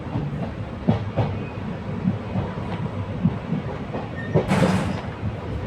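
The 54532 Kalka–Ambala Cantt unreserved passenger train rolls along the Baddi railway line, a steady low rumble broken by repeated rail-joint clacks and a louder hissing surge near the end.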